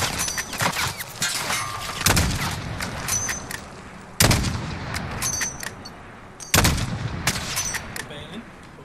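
Gunshots ring out in a shooter video game, with three heavy, sharp blasts spaced a couple of seconds apart over a steady bed of smaller pops and rumbling game noise.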